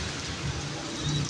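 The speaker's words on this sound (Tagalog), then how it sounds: "Inaabot pa ng ulan eh." Steady rain pours down on a city street near a terminal, a dense continuous hiss of drops hitting surfaces, close and even throughout, with no talking.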